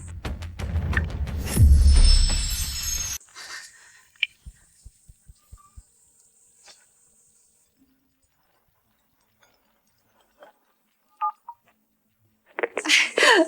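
A handset's dialing tones as someone places a phone call: a few brief, faint beeps spaced apart, following loud arguing voices and several soft taps, in an otherwise quiet room.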